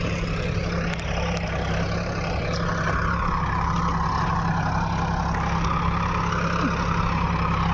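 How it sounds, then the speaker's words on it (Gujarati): A tractor engine runs after starting on a farm field at wheat-sowing time, with a steady, loud, low idling rumble that holds evenly throughout and no other sound. "ટ્રેક્ટર ચાલુ થઈ ગયું એમ."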